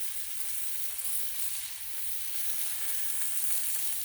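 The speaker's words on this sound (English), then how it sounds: "We're putting the semi balls onto the griddle." Burger meat balls sizzle steadily on a hot, lightly smoking Blackstone griddle, a constant bright frying hiss with no voices.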